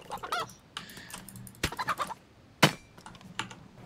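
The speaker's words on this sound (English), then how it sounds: "Ooh, chicken." Chicken clucking in the video game DayZ, a few short, close clucks and squawks coming in separate bursts between quiet gaps, with soft clicks and rustles around them.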